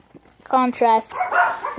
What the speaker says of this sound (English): Sorry if you hear the dogs.